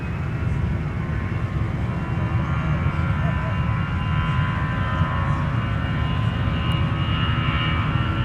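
Air Canada jet on a three-mile final approach into MSP airport in winter, its engines a steady, continuous roar that holds loud and even throughout with no break.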